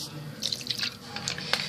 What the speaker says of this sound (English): apple cider vinegar. We're going to put a little splash of that in here.